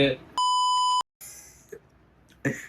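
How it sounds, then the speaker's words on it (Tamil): A steady, loud censor beep cuts in for about half a second as a pure tone, then breaks off abruptly. Short bursts of voice come just before it and again near the end. "இது நாங்க எங்க பிளாக்னால கண்டிப்பா பீப் வரும்."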